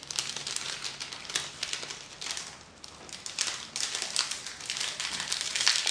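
Crinkly plastic wrapping of a deep-sea creature gummy candy pack being opened, a steady stream of close crumpling and rustling with brief tearing bits, no voices throughout.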